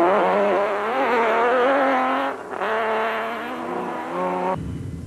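An off-road race car roars past close by with a high, straining engine note that dips briefly as it shifts, then resumes before cutting off into quieter background.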